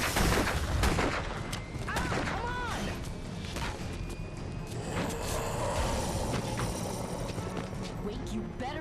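Shotgun blasts crack through a video game firefight, repeated sharp shots with clattering mechanical sounds and other game noise, fairly quiet overall with a voice speaking at times.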